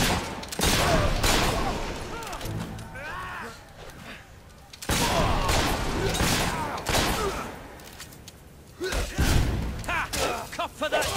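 Enemy gunfire in the video game Fable 3, with dense bursts of shots and heavy thuds arriving in waves, loud and busy, broken by a short quieter gap midway.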